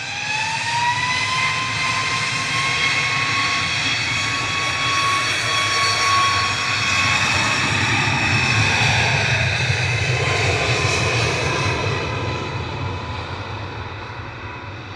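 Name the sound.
Ryanair Boeing 737 Max 8 jet departing Manchester Airport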